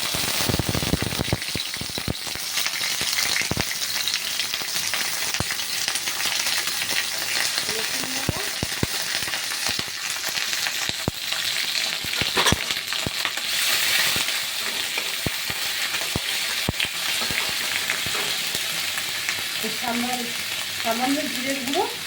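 Ginger paste frying in oil for prawn biryani, a continuous close sizzle broken by sharp scraping and clacking as a spoon stirs the pan, with brief faint speech near the end.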